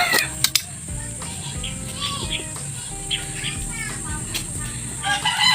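Chickens cluck and call nearby against steady outdoor background noise, with a few sharp clicks and short bursts scattered through.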